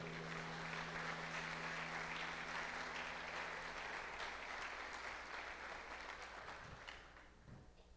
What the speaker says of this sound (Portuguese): dá um glória a Deus e aplauda ao Senhor